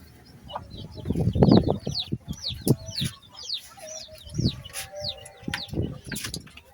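Small flock of farm chickens clucking and giving repeated high chirping calls at a steady pace, mixed with bursts of low rustling and wing flaps, moderately close.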